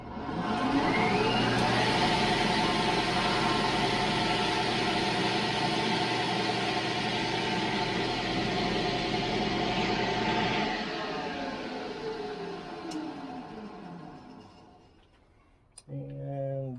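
A Craftsman 100 table saw with a Link V-belt runs steadily with a loud, even motor hum and whine for most of the span, then winds down and fades before a brief knock near the end.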